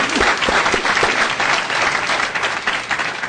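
A round of applause at a school district board meeting, thick continuous clapping from a room of people at even loudness throughout, close and loud with no voices standing out.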